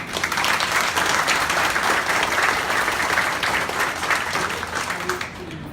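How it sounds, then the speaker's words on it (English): Dense, even applause from people at a county commission meeting carries on for several seconds, then eases off at the end, with faint murmuring underneath. "Let's give him a hand round of applause."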